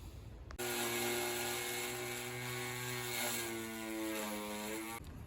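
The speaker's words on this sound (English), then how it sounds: "I'm going to use flits on this polishing wheel, a little buffing wheel here" A small buffing wheel spins up and polishes metal with Flitz, a loud steady motor whine with tonal hum that shifts pitch as the piece is pressed against it, starting and stopping abruptly, no talk.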